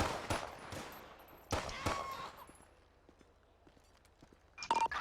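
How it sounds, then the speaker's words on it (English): Several sharp gunshots ring out in GTA V with the LSPDFR police mod during a highway patrol stop on a wanted felon: two loud cracks near the start, a quieter stretch, then another burst at the end, with a voice speaking between them. "shots fired"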